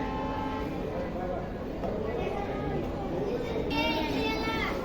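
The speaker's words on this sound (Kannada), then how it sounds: "ಟ್ರೈನ್ ಡಿಪಾರ್ಟ್ ಆತು, ವಿಜಲ್ ಆತ" Mysuru–Belagavi Express train 17301 pulls out of a station in a steady rumble, with a brief whistle-like tone near the end; voices and children chatter on the platform throughout.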